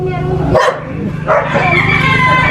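Several fighting-rooster farm dogs bark loudly and repeatedly nearby, overlapping yips and barks with a busy background, some yelps mixed in.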